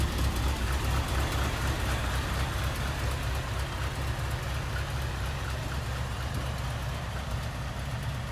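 A station wagon engine idles smoothly after sitting for a couple of weeks, a steady low rumble holding an even level throughout with no talk.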